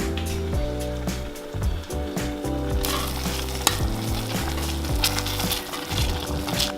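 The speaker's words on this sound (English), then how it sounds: "So the sauce is cooking." Creamy vegan Cajun pasta sauce cooks in a pan on medium-low heat, giving a steady, close sizzle and bubbling with occasional stirring, all under prominent background music.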